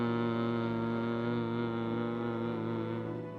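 A steady, even hum made with the jaws closed and teeth together during a Marma Bhramari breathing practice, one sustained low droning tone held close and alone for several seconds.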